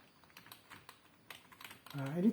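Typing on an L-Shark K35 LED keyboard, a quick run of light key clicks for about two seconds before a voice starts talking over the end.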